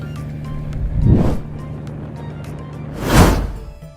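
A motorized jukung boat on the Musi River in Palembang passes with engine drone under a steady low hum, swelling loudly twice as the sound rises and then falls away.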